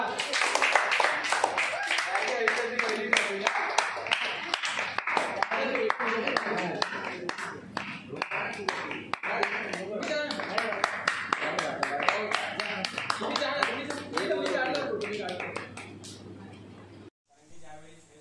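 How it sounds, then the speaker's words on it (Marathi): Audience clapping for a young girl's acting performance at a children's environmental drama festival at a school in Ratnagiri, sustained applause filling the hall for most of the clip before cutting off near the end. "जोरदार टाळ्या होऊन जाऊ दे तिच्यासाठी"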